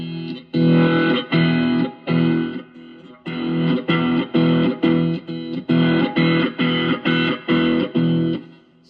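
Electric guitar driven through a Joyo Oxford Sound pedal set for distortion, playing loud, rhythmic chords in short repeated bursts with brief gaps, alone and with no voices.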